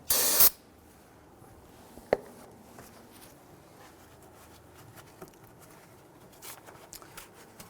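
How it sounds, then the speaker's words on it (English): A single short, loud hiss of spray solvent being sprayed on a brake hose connection of a Buick Enclave at the start, then quiet background with faint clicks and small ticks. "go ahead and use some spray solvent"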